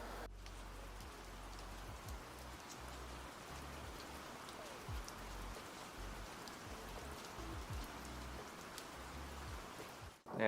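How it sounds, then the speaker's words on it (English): Rain falls on a Melbourne city street as a soft, steady patter and hiss, faint but constant, with a low background hum beneath it and no voices. "raining in Melbourne, eh?"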